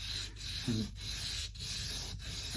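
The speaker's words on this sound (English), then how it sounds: "We'll use this as a guide to take it down using the sandpaper to begin with" Sandpaper rubs against an Alvarez acoustic guitar nut in quick, even back-and-forth strokes, about four rasping passes close up with no voices.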